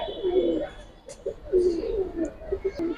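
Pigeons coo in soft, low, repeated rolling calls nearby, with a voice briefly audible and faint clatter in the background.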